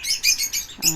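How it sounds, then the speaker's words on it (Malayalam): Many caged birds in a home-built aviary fitted with clay nesting pots chirp in a quick burst of high, bright tweets, four or five overlapping calls packed into a single second. "ധാരാളം പക്ഷികളുണ്ട്"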